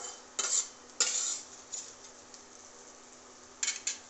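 Bay leaves go into hot oil with already-fried nuts for a vegetable curry, giving a quiet sizzle under several sharp metallic stirs and scrapes of a utensil against the pan, with no talk.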